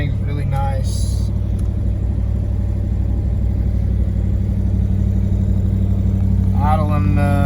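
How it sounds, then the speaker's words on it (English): A 1968.5 Ford Mustang R Code 428 Cobra Jet with a 4-speed idles steadily with a deep, continuous rumble and a slightly raised idle, close and loud throughout, while a person talks over it now and then. "Idling, got the idle up just a little bit."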